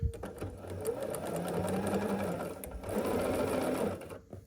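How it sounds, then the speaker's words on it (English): A sewing machine stitches quilt fabric squares with a steady close mechanical whir, running for about four seconds with a brief dip in the middle. "So I'm going to sew those on."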